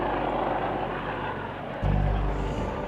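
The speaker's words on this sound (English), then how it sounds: "the police helicopter X-Ray Alpha 99 has been called in to help with the search" Police helicopter X-Ray Alpha 99 thrums steadily overhead during a search near a field, a continuous rotor drone with a louder low rumble swelling in near the end.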